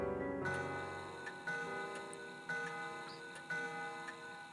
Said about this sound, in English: The clock begins to chime.